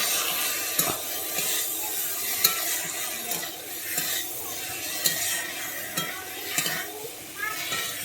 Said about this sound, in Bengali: এরপর আমি দিয়ে দিচ্ছি ভেজে রাখা চিংড়ি মাছগুলো দিয়ে আমি এটাকে আরও এক মিনিট কষিয়ে নিচ্ছি